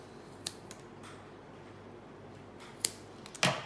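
Scissors snip off the cord ends of a two-colour woggle close to the knot, giving a few short crisp cuts spread over a few seconds in a quiet room, with no talk.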